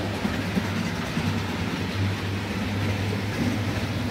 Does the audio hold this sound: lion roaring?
no